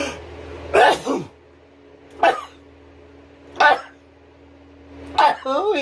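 A person sneezes four times in a row at spaced intervals, each a sharp loud burst, close to the listener in a quiet workshop, followed by a brief vocal exclamation.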